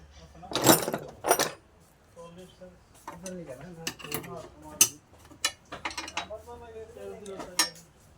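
A nut is tightened while a stand is set up, with sharp metallic clinks and ratcheting clicks scattered through the clip and a voice talking alongside.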